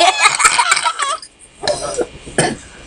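Several short coughs from someone close by, bunched together, followed after a pause by two more brief coughing bursts.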